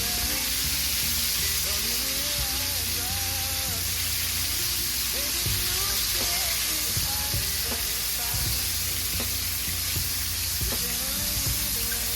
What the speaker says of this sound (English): I am frying up this last batch of chicken